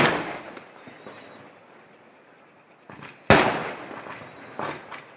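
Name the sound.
Diwali firecrackers exploding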